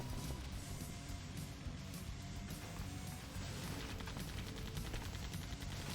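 Turrets in the Hard Truck Apocalypse game fire in dense rapid bursts, a continuous machine-gun-like clatter with booming impacts layered over a rumbling engine, heard loud and close without pause.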